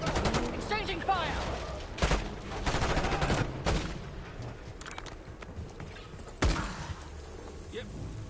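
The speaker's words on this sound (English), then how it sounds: "Exchanging fire!" Gunfire is exchanged in the Black Ops 6 video game campaign: a series of sharp, loud shots and short bursts crack out at irregular intervals over a rumbling, busy battle background.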